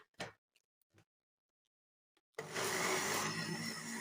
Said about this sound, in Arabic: كوبايه السكر هضربهم الاول مع بعض عشان عايزه ادوب برضو السكر